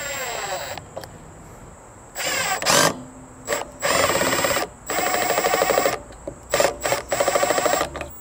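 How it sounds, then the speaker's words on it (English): Bursts of a power drill whir in short, repeated runs of varying length while boring new holes into a thrifted plant stand, close and fairly loud, with brief pauses between them. "So we're just gonna drill new holes."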